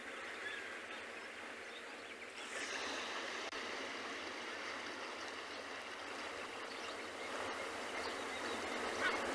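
Steady rushing ocean surf at an African penguin colony in Cape Town, with soft, continuous wash of water and a few faint bird calls mixed in at a distance.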